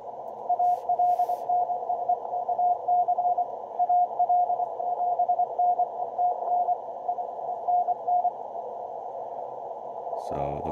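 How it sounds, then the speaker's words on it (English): Morse code call sign and signal reports keyed by a DX station during a DXpedition, heard as a steady, clear single-pitch CW tone in rapid on-off bursts over faint radio hiss, ending with a brief burst of static. "We can just hear the DX station simply send out the call sign and do the signal reports"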